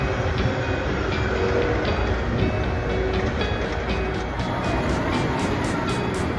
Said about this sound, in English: that's the first train of the day going out now